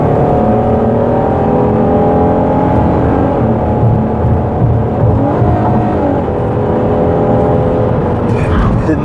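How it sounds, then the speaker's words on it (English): A Ford Police Interceptor Utility in pursuit mode brakes hard and downshifts, its engine note dropping through steady loud whirring and revving from inside the cabin, with a voice talking over it. "Hit the brakes hard."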